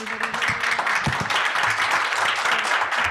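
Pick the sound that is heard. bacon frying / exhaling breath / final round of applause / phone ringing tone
final round of applause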